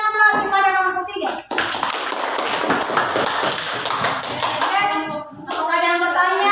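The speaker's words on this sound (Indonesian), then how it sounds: "Aplaus kepada kelompok 3." Classroom applause for group 3 in a class presentation, a dense burst of many hands clapping for about four seconds, with a teacher's voice heard before and after.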